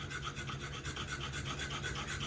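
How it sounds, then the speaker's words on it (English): A metal part from a 1974 Schwinn Lady Suburban bicycle being filed down by hand, a steady rhythmic rasp of repeated strokes, close and continuous with no talking. "I'm going to just grind it down a little bit more, and then round out the corners"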